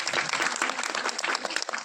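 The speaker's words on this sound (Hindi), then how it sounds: "उनके लिए एक बार ताली हो जाए।" Sustained audience applause filling a business-plan meeting hall, dense steady clapping from many people without pause, fairly loud and close throughout.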